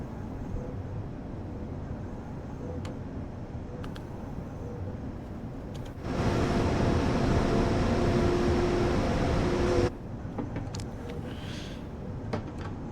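A train runs along the tracks in a train simulator game on an Austrian line with many switches, with a steady mechanical rumble and clicking that swells into a louder sustained roar mid-way before dropping back to the quieter running noise.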